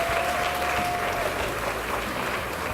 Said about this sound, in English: Please put your hands together and give them a cheer.